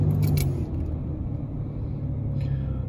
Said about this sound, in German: Und wenn ich den Motor starte,